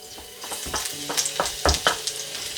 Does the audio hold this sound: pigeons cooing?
no